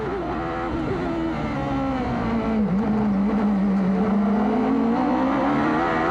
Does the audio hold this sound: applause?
no